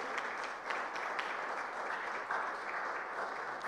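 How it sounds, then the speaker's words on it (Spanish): An audience at a university forum in Oruro applauds a guest, a steady dense wash of clapping that holds evenly throughout, moderately loud and without speech. "La recibimos con un aplauso"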